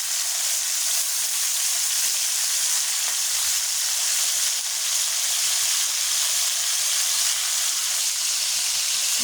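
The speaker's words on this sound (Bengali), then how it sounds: "আমি মুরগির মাংসটা ছেড়ে দিলাম ভাজার জন্য" Chicken meat frying in a pan, giving an even, continuous crackling sizzle close up with no voices.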